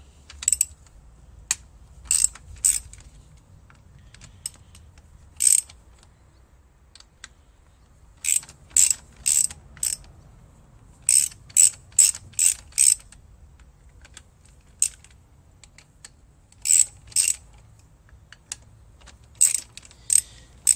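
A ratchet works on bolts on a 2005 Honda CRF450R engine, giving sharp, close clicking bursts in irregular groups with quiet gaps between them.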